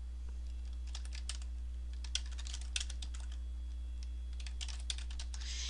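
Typing on a computer keyboard while entering text in Publisher 2007, heard as irregular bursts of light key clicks against a steady low hum, with no talking.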